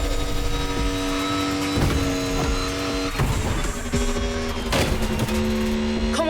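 A Mercedes Silver Arrow race car in The Crew Motorfest roars at high revs, its engine tone holding steady and rising in pitch in short surges, loud and close throughout.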